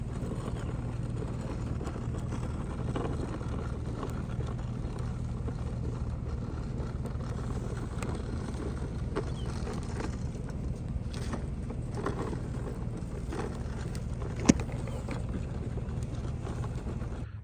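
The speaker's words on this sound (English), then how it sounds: "It's just in first gear, 4 low, idling." A truck engine idles in first gear, four-wheel-drive low, in a low, steady rumble, with faint mechanical rattles and ticks over the drone and no talking.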